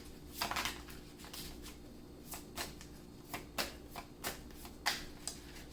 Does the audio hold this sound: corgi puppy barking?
no